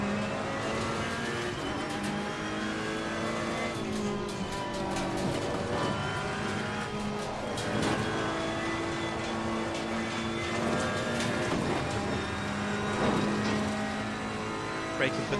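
Race car engine in Assetto Corsa Competizione, a GT racing game, revving hard on track with a steady loud drone and shifting pitch as it brakes for a hairpin, with someone talking over it.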